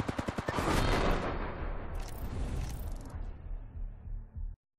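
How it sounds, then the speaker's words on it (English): Gunfire in a shooter video game opens with a quick run of sharp shots that blurs into a dense, sustained automatic burst, loud and close, then cuts off abruptly. "I unloaded a whole clip and it was gold shield"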